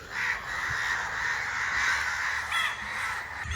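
Many crows caw in a rural Marathi village, a dense continuous chorus of harsh calls at moderate distance with a few louder individual caws standing out.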